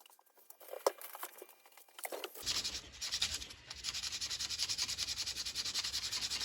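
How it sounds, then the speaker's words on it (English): Coarse 60 grit sandpaper rubs along a wooden handle with steady, rhythmic back-and-forth strokes, close and fairly quiet. Light scratching and tapping come first, then the sanding begins abruptly and keeps an even pace. "Now we just need to sand it."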